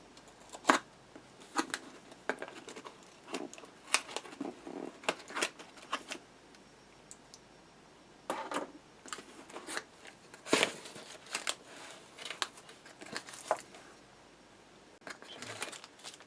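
A shipping package holding a Nova 3G wood lathe chuck is torn open and unpacked. Cellophane tape is pulled, then paper and cardboard crinkle and rustle with irregular close clicks and crackles for several seconds, with no voices.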